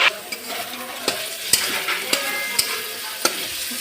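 Rice coated with ghee and cloves fries in a pan with a soft continuous sizzle, while a spatula scrapes and knocks against the pan in sharp taps roughly every half second.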